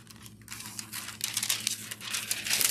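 Thin craft foil sheets being handled and flexed for Halloween porch signs, producing close, continuous crinkling and crackling that swells louder toward the end, with no talking.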